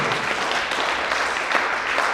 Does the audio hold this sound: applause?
yes